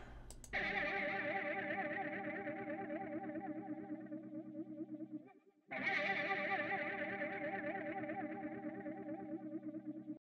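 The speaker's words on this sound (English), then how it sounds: "They have this preset called Mud Mojo, and it combines this interesting funk frog stomp pedal with fuzz and some EQ." Synth or guitar-like tone run through the Magix Vandal Mud Mojo preset, a funk frog stomp pedal with fuzz and EQ: a sustained, buzzy effected note held for about five seconds, a brief gap, then a second loud sustained note.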